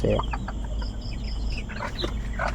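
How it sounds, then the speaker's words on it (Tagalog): Several chickens cluck nearby in short, scattered bursts over a low steady hum. "Okay naman yung mga manok dito"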